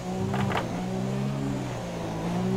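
Race car engine in the F1 2017 video game at Monza, a steady high-pitched harmonic drone held continuously throughout, with a brief burst of noise near the start.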